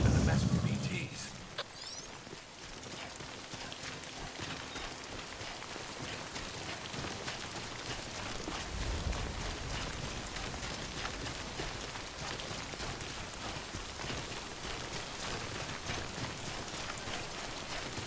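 Rain falls in the video game Death Stranding, a steady even wash of hiss throughout, with a deep rumble swelling briefly at the start and again midway.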